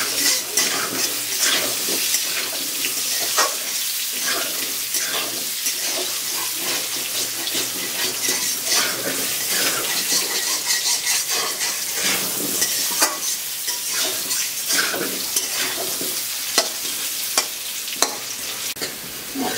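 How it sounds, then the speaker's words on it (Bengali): Potatoes fry in hot oil in a pan, a loud dense sizzle running throughout, broken by repeated scraping strokes of a spoon stirring them, close up and with no talking. "আদা আদা ভাজা করে নিলাম আলুগুলো"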